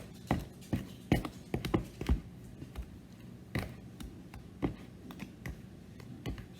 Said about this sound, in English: All that little clicking you hear going on, that's the dog wandering the house,